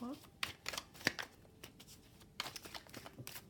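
Tarot cards are shuffled and riffled in a run of quick, crisp flutters and flicks, with a voice speaking softly in between.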